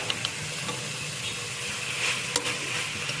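Mutton chops for a natti-style green mutton dish frying in a pan, a steady close sizzle with occasional scraping stir clicks, no voices.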